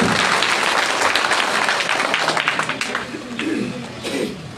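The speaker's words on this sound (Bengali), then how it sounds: "তার উদ্দেশ্যে একটি করতালি হোক।" Applause for a leader at a rally in Bhola: a dense burst of clapping from a crowd fades gradually, with a bird cooing faintly in the background.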